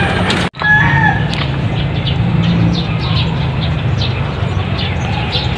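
Backyard chickens cluck and chatter continuously nearby on a small farm, with brief higher calls over a steady low rumble and a sharp knock near the start.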